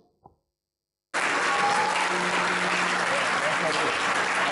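An audience applauding for a man at the microphone, steady dense clapping that starts abruptly after a brief faint voice and continues loud and sustained.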